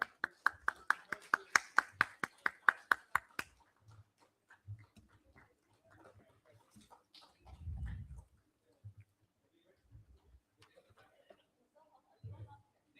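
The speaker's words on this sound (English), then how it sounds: "A big round of applause for our ladies here." A short burst of clapping for women joining the stage at an HR leadership summit, a quick run of sharp claps fading after a few seconds into a quiet room with scattered low thumps.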